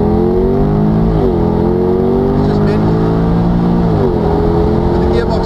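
A Mercedes CLK engine revs and climbs in pitch as it accelerates, with gear changes causing brief dips, loud and close.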